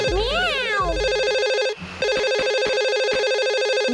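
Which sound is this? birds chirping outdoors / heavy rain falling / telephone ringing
telephone ringing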